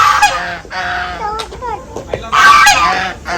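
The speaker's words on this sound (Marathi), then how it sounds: "इथे बदक पण आहेत" Loud, nasal honking calls from ducks close by at an adventure park, several harsh quacks in quick succession with short gaps between.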